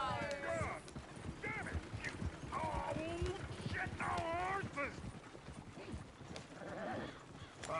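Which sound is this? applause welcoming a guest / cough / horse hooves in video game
horse hooves in video game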